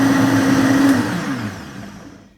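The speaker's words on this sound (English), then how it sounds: "And then blend it up." A Vitamix blender whirs loudly through a green smoothie with frozen ingredients, a steady high motor whine that drops in pitch and fades away over about two seconds as it winds down.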